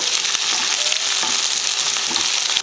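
A big onion and several cloves of garlic sauté with dried red chilies in a pan for chutney, making a loud, dense, continuous sizzle with faint stirring scrapes. It cuts off abruptly at the end, and no one speaks.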